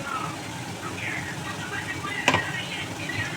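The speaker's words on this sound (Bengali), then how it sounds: "তারপরে দেখো আমি ফোড়নে দেবো লঙ্কা জিরে আর তেজপাতা" Chili, cumin and bay leaf sizzle in hot tempering oil in a home kitchen, a steady soft frying hiss with one small sharp crackle partway through.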